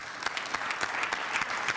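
Applause at a city council meeting, a smallish gathering clapping in brief, moderately loud bursts with distinct individual claps.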